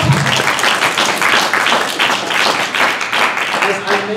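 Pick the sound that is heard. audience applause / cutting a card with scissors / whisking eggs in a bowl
audience applause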